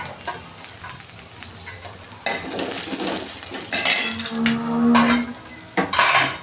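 Grated coconut sautéing with onion in a pan for a drumstick vegetable dish, a loud close sizzle with spatula scraping and metal clinks, swelling in bursts after a quieter start; no voices.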